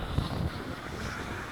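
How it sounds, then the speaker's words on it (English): Strong wind buffets the microphone on an exposed stretch of Northern Ireland's Causeway Coast, a steady loud rush with a heavier gust at the start and no voices. "I'm talking a bit louder because it's really windy."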